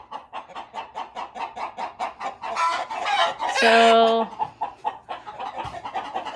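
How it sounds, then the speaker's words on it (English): Hens cluck steadily in a farm coop while a rooster lets out one loud crow midway, with footsteps and background rustling throughout. "there's a rooster out here watching me"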